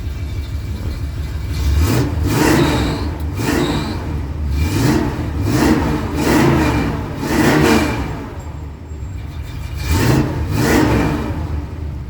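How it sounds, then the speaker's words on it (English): A 1976 Ford F150 4x4 pickup truck engine revs repeatedly, rising and falling in several roaring bursts over a steady idle, close by and loud. "Let's fire this sucker up and let you hear it."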